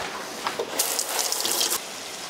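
Tap water runs into a sink as hands are washed, a steady splashing gush that swells louder midway before cutting off, with no speech.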